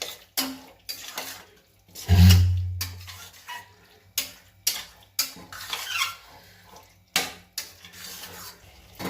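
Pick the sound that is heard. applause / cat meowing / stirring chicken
stirring chicken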